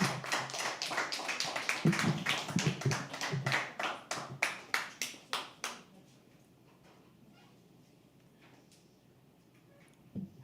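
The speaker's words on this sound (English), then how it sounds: "Keep clapping till he comes on." An audience claps steadily at a poetry open mic at The Habitat, a dense burst of applause that thins into scattered individual claps and then fades into quiet room noise with faint murmurs.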